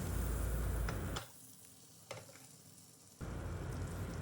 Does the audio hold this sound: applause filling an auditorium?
no